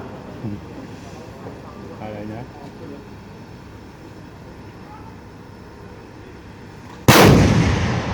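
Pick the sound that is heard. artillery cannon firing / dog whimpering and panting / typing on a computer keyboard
artillery cannon firing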